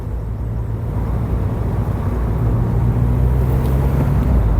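A Peugeot 206 CC convertible drives along on a road, its steady engine drone close and continuous, building slightly in level as it pulls through the gears, with a little wind rush over the open car.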